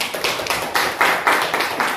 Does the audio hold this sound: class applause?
yes